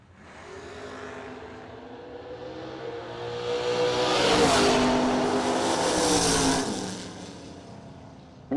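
Drag race cars at the Bernie Mann Memorial No Delay Nationals, a Mustang against a Camaro, roar down the strip in a broad engine wash that builds to a peak midway and then fades into the distance.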